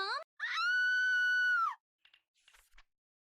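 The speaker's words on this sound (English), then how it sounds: "that scream is not nice to hear over and over again" A long, high, loud scream from a video game character, one sustained wail after a short cry, followed by faint scattered clicks.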